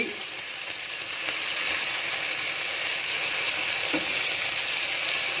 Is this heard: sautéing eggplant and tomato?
yes